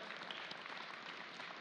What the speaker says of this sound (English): So a round of applause for all of our families and all those at home as well